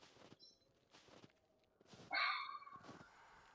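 Dogs bark in the 7 Days to Die video game, a few quiet distant-sounding barks followed by a louder, sharper yelp and growl near the end, over quiet game ambience.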